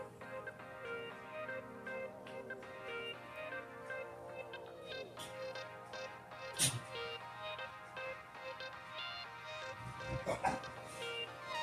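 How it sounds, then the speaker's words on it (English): A puppy in a home garden lets out a few scattered barks and yips among softer whimpers, faint and intermittent, with sharper bursts near the middle and end. "Such a silly puppy."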